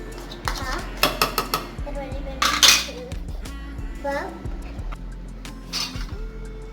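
A spoon scrapes and clinks against a bowl while cake batter with ghee and sugar is mixed, giving repeated sharp metallic taps and stirring noises. A child and an adult talk over the sounds.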